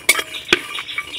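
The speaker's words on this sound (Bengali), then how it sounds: "এবার শুকনো খোলায় আমি নাড়াচাড়া করে একটু ভেজে নেব মশলাটাকে।" Spices stirred in a dry pan over low heat, giving a few sharp scraping clinks of a utensil against the metal with quieter rustling between them. The sound is close and stands alone, with no talk.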